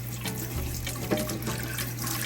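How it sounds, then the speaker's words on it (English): Saltfish rinsed under a running kitchen tap, a steady close hiss of water splashing into the sink, unbroken with faint shifts as the fish is moved, no voices. "before you start boiling your saltfish, you want to rinse it off a little bit first."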